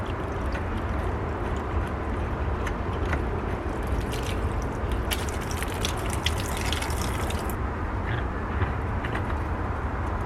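Water gushing steadily from a garden hose in a front container garden, a constant broadband rush that stays close and fairly loud throughout, with a few brief clicks and splashes on top.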